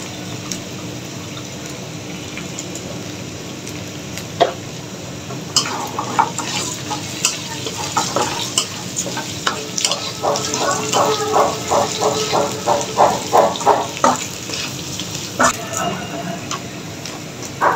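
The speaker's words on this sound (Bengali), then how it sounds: "এক কাপ মুগ ডাল পুরোটাই দিয়ে দিচ্ছি।" Moong dal frying in a pan while being stirred, a steady sizzle with a run of rapid scraping and clattering stirring strokes in the middle, close and moderately loud.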